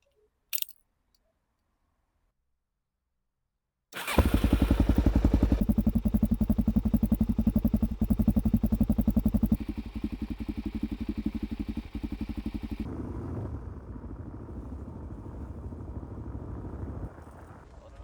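A motorbike engine starts after a brief silence and runs loudly and steadily at close range on a ride through Slovakia toward a flea market, its note shifting as the throttle changes, then easing off toward the end.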